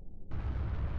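A missile blowing up in the Melon Playground game: a single sudden, loud synthetic blast that cuts in abruptly and holds as a dense roaring burst to the end.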